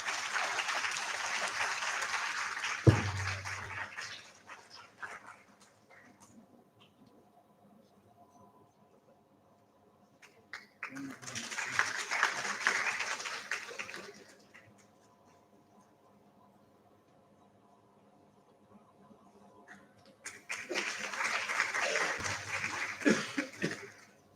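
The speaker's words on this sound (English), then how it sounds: "Can we have a big round of applause, please?" Conference audience applauding in a hall: three separate rounds of steady clapping from a crowd, each lasting several seconds, with quieter room noise in between and a brief thump at one point.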